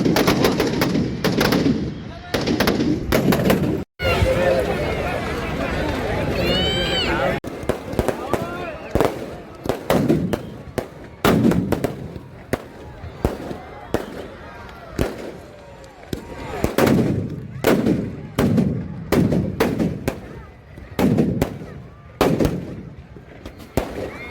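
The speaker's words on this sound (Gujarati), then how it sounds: "આતિશબાજી જોરદાર ધમાકા બોમ્બ" Fireworks and firecrackers burst repeatedly at a Dussehra Ravan Dahan celebration in Bhavnagar, sharp cracks and booming pops coming in irregular clusters, with voices talking in the background between explosions.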